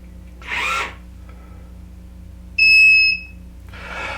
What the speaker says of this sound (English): and it will start beeping